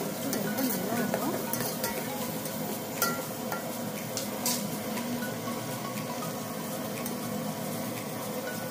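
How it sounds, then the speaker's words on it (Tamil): Onions and green chillies fry in oil for chicken biryani, a soft continuous sizzle with occasional spoon scrapes and clinks against the pot. "வெங்காயம் நல்லா ப்ரௌனாக வர வரைக்கும் நல்லா வறுத்துக்கலாம்."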